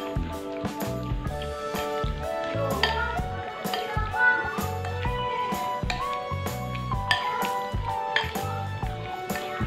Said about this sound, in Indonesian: Ini mau aku aduk semuanya sampai tercampur rata.